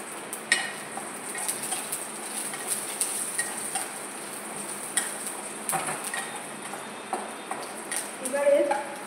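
Cinnamon, cardamom, bay leaf and a dried chilli fry in a little ghee, giving a steady close sizzle with scattered spoon and pan clatter and light crackles.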